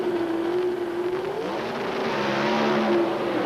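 Drag racing at the 1983 NHRA Springnationals, a Pontiac against a Ford Thunderbird in a semifinal run: loud, sustained engine roar with steady rising pitch, continuous throughout without voices.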